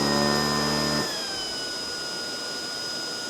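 Hoover ONEPWR Emerge cordless vacuum cleaner whirring loudly, its high whine and motor hum dropping in pitch after about a second as the setting changes, then running on steadily.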